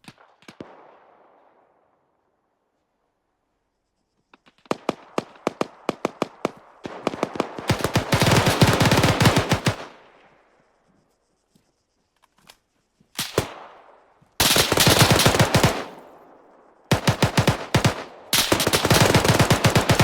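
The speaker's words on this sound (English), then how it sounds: "shooting over toward that supermarket" Automatic gunfire from the Arma 3 military video game crackles in repeated bursts aimed toward a supermarket, with rapid loud volleys separated by short silences and fading echoes.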